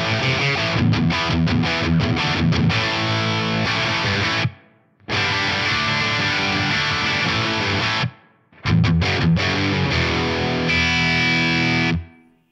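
Distorted electric guitar plays chords in bursts separated by short silences, with a faint lingering ambience on each phrase from a subtle gold plate reverb on a Fractal FM9.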